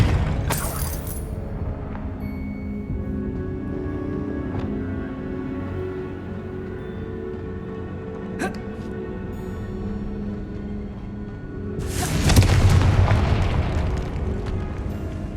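Confringo spell blasts in Hogwarts Legacy, a loud crackling burst at the start and a bigger rumbling explosion near the end, with a droning game backdrop and faint impacts in between.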